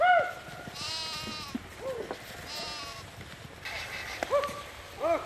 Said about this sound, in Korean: 돌이 많은 계곡이 나오자 당황한 양 염소들이 우왕좌왕